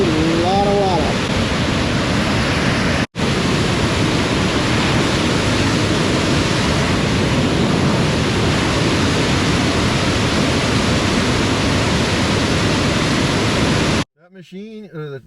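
A large volume of water surges through a lake channel, a loud, constant roar of rushing water heard up close that runs almost unbroken and then drops away at the end, where a voice briefly speaks.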